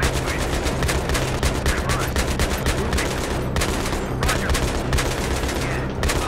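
A mounted turret gun in Battlefield 3 fires continuously, a loud and dense stream of rapid shots that barely pauses, heard close up with a constant battle din underneath.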